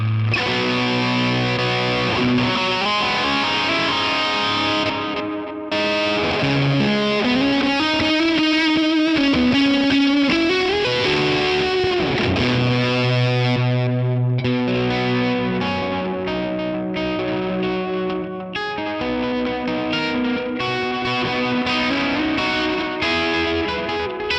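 Distorted overdrive electric guitar playing a melodic riff with sustained, gritty notes and some pitch bends, loud and continuous throughout.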